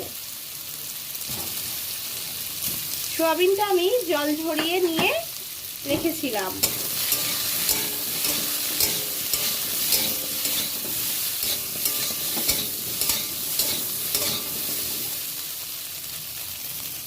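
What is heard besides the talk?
soybean chunks and potato frying in pan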